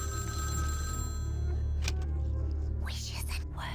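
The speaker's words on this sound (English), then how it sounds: "Ah, the phone's ringing." A telephone rings in Vampire: The Masquerade - Bloodlines, a tonal electronic ring playing over low ambient hum while a voice murmurs quietly toward the end.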